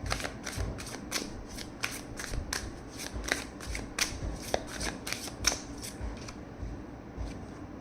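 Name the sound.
shuffling tarot cards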